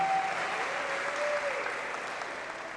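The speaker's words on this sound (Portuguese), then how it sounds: "Pode aplaudir." A church congregation applauding during a Catholic sermon, a sustained even wash of clapping in a large reverberant space, slightly fading toward the end while a faint tone lingers beneath.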